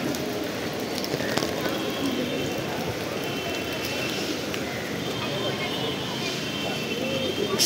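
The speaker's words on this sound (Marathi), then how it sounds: "नुसता पाऊस." Steady rain falls outdoors on a street near a rickshaw stand, a continuous close hiss of drops on surfaces with no clear breaks, filling the whole stretch at an even level.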